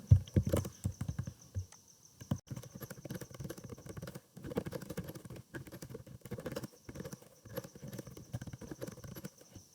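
Keys tapped on a computer keyboard while a paragraph of text is typed, quick irregular clicks in bursts with short pauses, close and fairly quiet, no talking.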